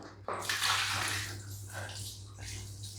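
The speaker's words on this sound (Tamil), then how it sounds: "டப்பாவில் பார்த்தீர்கள் என்றால் தண்ணீர் ஊற்றி கொண்டுகள்" Water pours steadily into a tub being filled for a hip bath, a continuous close splashing rush with no speech over it.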